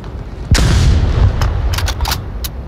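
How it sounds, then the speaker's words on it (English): Flashbang grenade going off in Onward VR: one sudden loud bang followed by a rumbling, ringing decay, then several sharper scattered cracks, with no speech. "Flashbang behind. Don't look."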